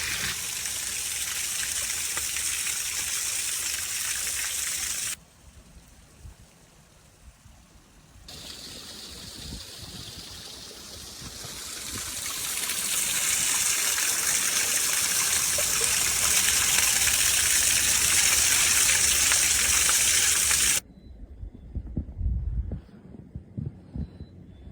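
Water rushes at a frozen waterfall as a steady, close, broadband hiss that drops briefly, swells louder for several seconds, then cuts off into quieter low rumbles and soft thumps.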